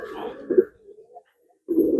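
Racing pigeons in a loft cooing, soft low throaty coos in two short bursts separated by a brief silence, close and alone.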